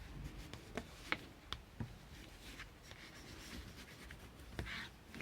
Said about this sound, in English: Then you take your bone folder. Okay, and then just press it down.